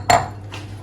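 A baking dish from a potato chicken dinner handled and set back into the oven, one sharp clink of the dish followed by a softer scrape, close and brief.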